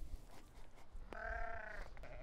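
A sheep bleats once in a farm pen on a vineyard property, a single clear, wavering call lasting under a second, heard close over faint outdoor background noise.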